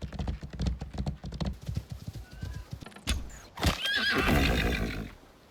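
Horses in the video game Icarus neigh and whinny while hooves clip-clop in a quick steady rhythm, with a loud burst of neighing and stamping near the end, close and clear.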